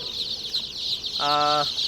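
Tiger chicken chicks bought from a hawker cheep in a steady, shrill, close chorus, with a short, fuller harmonic call breaking in near the end.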